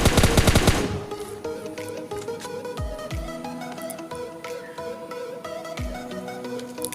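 Automatic weapon fire in PUBG Mobile Lite, an opening burst of rapid shots followed by scattered single gunshots and sharp impacts over a steady in-game background.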